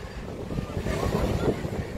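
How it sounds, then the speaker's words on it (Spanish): A sea breeze sweeps across a beach in Santander at low tide, a steady broadband whoosh of wind buffeting the microphone, loud and constant throughout, with no voices heard. "y corre una brisa maravillosa"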